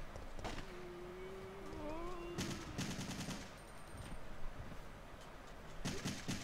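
Gunfire in the video game Resident Evil 3, with bursts of rapid shots among background game sounds and a tone, moderately loud, while a person talks over the play.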